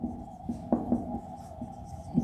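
Chalk or marker writing on a board during a machine design lecture on joints, a series of short scraping strokes at moderate distance over steady room tone, with no talk.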